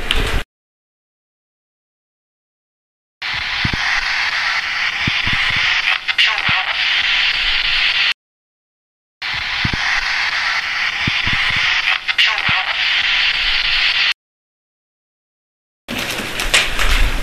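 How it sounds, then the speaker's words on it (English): Two-way radio crackling on in long bursts of hissy static with muffled voice-like chatter, separated by dead-silent gaps, in a theater and hotel setting. "the radio went off and said something"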